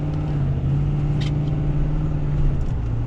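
A Ford Powerstroke diesel truck accelerating while towing heavy, heard from inside as a smooth, steady low engine drone with a faint, brief tick partway through.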